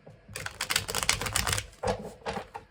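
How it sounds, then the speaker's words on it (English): A tarot card deck gets a final shuffle, cards riffling and slapping in quick crisp bursts up close, with a brief pause before a second, shorter flurry. "we'll do one last shuffle."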